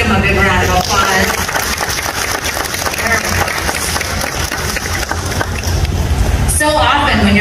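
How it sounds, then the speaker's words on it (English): Applause for a glassblowing demonstration, with loud, dense clapping from a crowd over roughly seven seconds, mixed with a voice speaking. "Let's give them a big round of applause."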